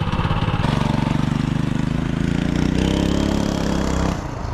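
A small engine idles steadily with a fast, even putter, loud and close, easing slightly lower just before it ends.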